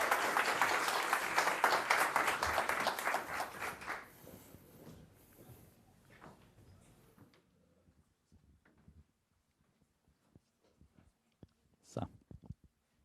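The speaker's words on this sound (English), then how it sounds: "And a round of applause" An audience at an international conference applauds with dense, loud clapping that fades over several seconds, followed by near silence broken by a few scattered claps and knocks.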